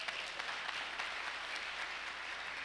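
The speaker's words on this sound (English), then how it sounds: "yeah, we can clap for that, that's wonderful." At a graduation celebration, a crowd claps warmly for a council member's housing work, producing a steady, moderately loud wash of many hands applauding, with no speech over it.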